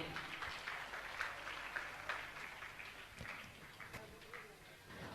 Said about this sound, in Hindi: मैं चाहूंगा आप जोरदार ताली बजाकर इनका सम्मान करें